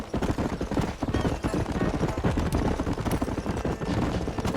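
Galloping horse hooves in Red Dead Redemption pound in a fast, dense rhythm, loud and close, mixed with busy noisy action in the background.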